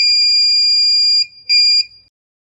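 A buzzer on an Arduino gas-sensor smoke alarm sounds a loud, shrill continuous tone that stops briefly, then returns in a shorter burst before cutting to silence.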